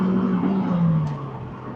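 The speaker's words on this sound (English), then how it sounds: "That is foot to the floor acceleration." An MG TF accelerating at full throttle, a steady engine drone rising slightly before easing off, heard from inside the car, fairly loud.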